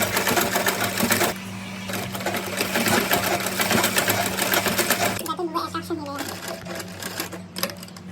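A sewing machine stitches the side seam of a cotton frock in a steady, close mechanical whir for about five seconds, then stops, leaving a low hum and a voice speaking.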